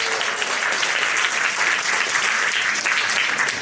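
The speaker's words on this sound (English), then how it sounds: "please give yourself a massive round of applause" An audience applauds steadily, a dense wash of clapping at even volume throughout.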